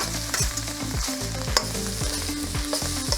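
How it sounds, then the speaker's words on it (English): Aromatics are stirred in a hot wok for Sichuan yuxiang eggplant, a steady loud sizzle broken by repeated scraping strokes of the spatula, close up and with no voices. "Aromatics in. And keep stirring."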